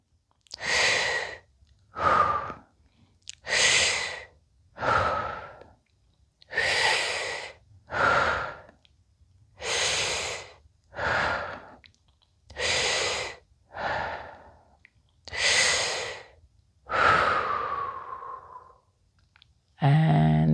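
Slow deep breaths during a fascial breathing exercise, about a dozen long inhales and exhales in a steady rhythm, close and clear with quiet pauses between, ending in a long sighing exhale.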